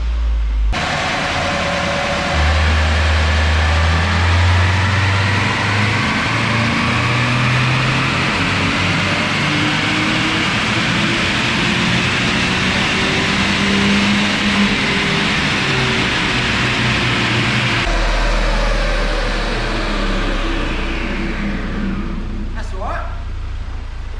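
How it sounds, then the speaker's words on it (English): A tuned car engine, on its first file revision and making about 102 horsepower, revs hard on a dyno for over twenty seconds, rising steadily in pitch as it is run up, then cutting off abruptly near the end. "we've just done the first file revision, so we're going to run it up now and see if it makes any more than 102 horsepower"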